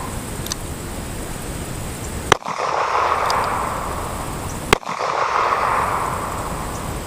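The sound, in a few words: gunshots from a .38 Special handgun, jacketed hollow point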